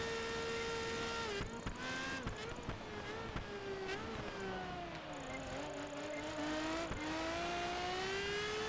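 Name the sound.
racing car engines in the video game Project Gotham Racing 4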